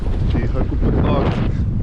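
Strong wind gusts roar across a sailboat near a 150-metre cliff wall off Symi, Greece, gusting close to 30 knots, a loud continuous buffeting rush of wind noise on the microphone throughout.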